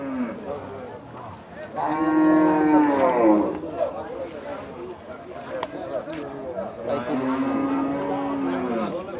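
Cattle for Eid sacrifice moo loudly at a livestock market (haat) in Nilphamari, Bangladesh. Two long, drawn-out bellows come from close by, one early and one near the end, with people talking and bargaining around them.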